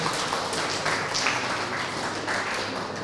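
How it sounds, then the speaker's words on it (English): An audience at a moot court competition claps steadily, a dense, even patter of many hands at moderate loudness that carries on throughout without a break. "A round of applause, a round of applause."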